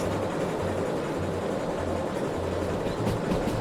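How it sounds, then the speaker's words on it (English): A locomotive in a train simulator video game slips its wheels under heavy pulling, giving a steady rumbling rail noise with a repeating low pulsing beat, moderately loud and with no talking. "I can hear the wheel slip."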